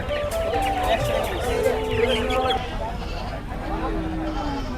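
A pair of goats bleat at a busy Ashulia market haat before Qurbani, their wavering cries rising over constant crowd noise while people talk close by.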